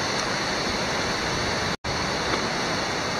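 Ndoro waterfall in Tanzania roars with a dense, steady rush of falling water, loud and continuous, broken only by a brief dropout midway.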